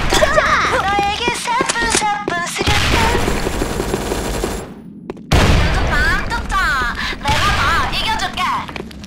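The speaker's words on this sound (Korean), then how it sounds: "수류탄 투척" A grenade is thrown and explodes in the shooter game Sudden Attack. Voices talk and gasp over the action, and a sudden broadband blast cuts in midway, followed by more rattling game noise.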